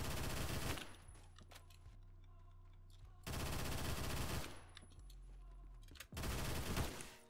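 Shotgun fire in the Roblox shooter Phantom Forces, three loud blasts of rapid gunfire separated by quieter stretches of steady in-game hum.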